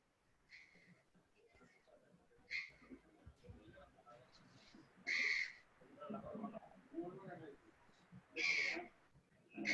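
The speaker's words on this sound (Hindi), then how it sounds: "अरे यार कौवा बहुत बोल रहा है यार।" A crow cawing repeatedly near an online chemistry class, loud harsh calls in separate bursts over ongoing talk.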